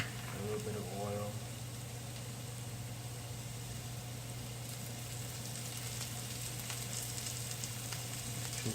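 Quiet, steady sizzle of food frying in oil in a pan, continuous with a faint hum underneath and a brief bit of clatter near the start.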